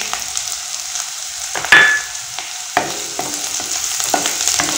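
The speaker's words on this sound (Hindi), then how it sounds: "कढ़ाई में तेल डाल दिए हैं तेल गरम हो गया है इसमें डाल रहे हैं प्याज" Chopped onion and green chilli hit hot oil in a kadai, giving a steady frying sizzle with scattered stirring clinks and scrapes, close up and with no talking.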